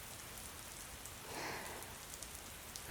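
Steady rain falls on a surface in a continuous, even wash of drops, moderately close and alone, with no voices.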